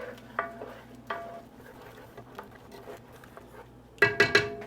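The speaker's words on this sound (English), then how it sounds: "I'm going to give that a stir." Spoon stirring smothered chicken gravy with bay leaves and thyme in a pot, a few soft scraping strokes and faint sizzle, close and fairly quiet, ending in a short burst of louder clinks against the pot.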